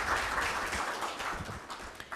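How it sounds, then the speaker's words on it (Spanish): Applause from an audience at an evening lecture on state propaganda and advertising, a soft, distant wash of clapping that stays faint and steady throughout. "Que mejor si todos nosotros saludamos la presencia de nuestra distinguida disertante con un fuerte aplauso."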